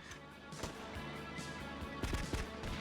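Gunshots crack through steady game ambience in GTA Vice City Stories on the PS2: scattered single reports, then a tight cluster of several loud shots late in the burst.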